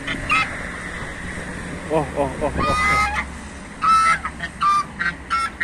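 Geese honk loudly and close by in a rural yard, several repeated honks coming in bursts while a voice briefly exclaims.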